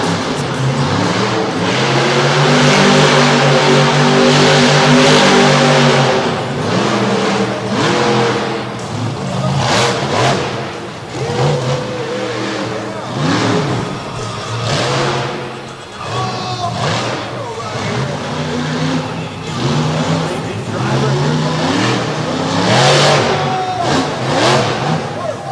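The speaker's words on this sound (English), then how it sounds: "Doug NOELKE out of Union, Missouri in the tailgater, opening things up here in freestyle." Monster truck called the tailgater revving hard during a freestyle run at a Madison, Wisconsin monster truck show, a loud, continuous engine roar with rising and falling pitch and crowd and arena noise underneath.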